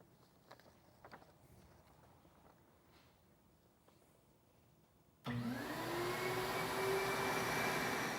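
A flow bench tests one chamber of a ported cylinder head on a Chevy. After a few seconds of quiet with faint handling clicks, a loud steady roar of rushing air switches on abruptly, then rises slightly in pitch and holds.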